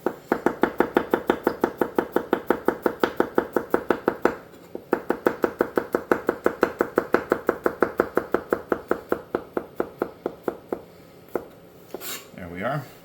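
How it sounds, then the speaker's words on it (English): A knife chops garlic very finely on a board into small chip-like pieces with rapid, evenly spaced strikes. There is a brief pause midway, then the chopping resumes and ends in softer handling noises. "all I'm going to do is just basically cut this very, very fine"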